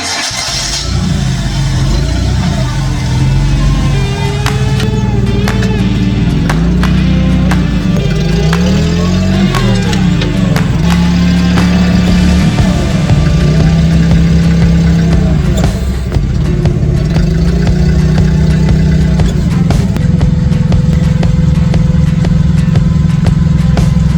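Forklift engine running steadily during a test drive after a hydraulic ram rebuild, a loud, close mid-pitched drone that rises and falls with revving across the whole stretch, no talking.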